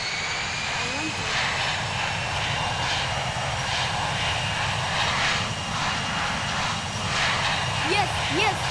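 An airplane's engines roar steadily and loudly during takeoff, a dense continuous drone filling the whole stretch, with a voice speaking faintly beneath it.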